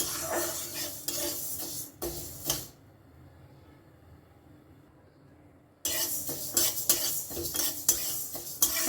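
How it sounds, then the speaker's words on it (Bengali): Dry mung lentils being roasted in a dry pan while stirred, giving close, busy scraping and rattling that stops for about three seconds of near quiet in the middle, then resumes just as loudly. "খুব ভালো করে নেড়ে নেড়ে আমি শুকনো খোলায় ভেজে নেব"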